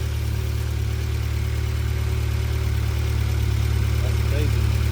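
A Nissan Sentra SE-R car engine idles with a steady low rumble that holds unchanged throughout, close by and fairly loud.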